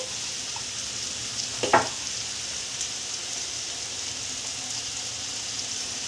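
Steady hiss of frying on a pan as garam masala, a cinnamon and clove powder, goes in, with a short clatter of the spice dropping and then the even sizzle continuing alone.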